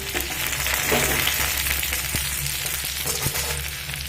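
Chopped ginger, green chili and cumin fry in hot oil, a steady close sizzle with a constant broadband hiss and faint crackles running through the whole stretch.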